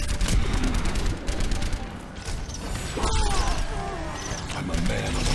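An enemy turret fires rapidly in the Overwatch video game on the Hollywood map, a fast clattering mechanical rattle with louder mixed game sounds around it.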